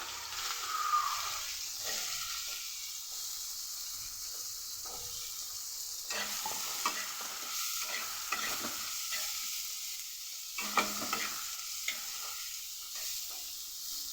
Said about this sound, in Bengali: অল্প একটু নুন দিয়ে পেঁয়াজটাকে ভালো করে ভেজে নেব।